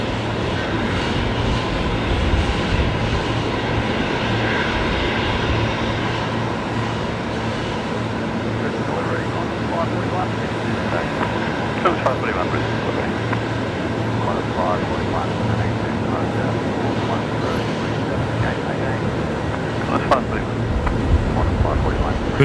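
A USAF KC-46 tanker aircraft approaches Brisbane Airport with a steady, broad jet roar that lasts the whole stretch, while people talk over it close by.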